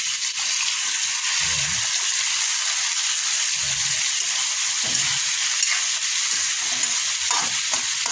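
Food sautéing in a pan gives a steady, close sizzle that runs the whole time, with a few low knocks of stirring against the metal.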